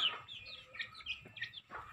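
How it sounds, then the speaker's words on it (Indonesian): Chickens of a mixed Bangkok crossbreed cluck in short, repeated bursts at an afternoon feeding, near and moderately loud, with no talk. "sore-sore kita kasih makan ayam teman-teman"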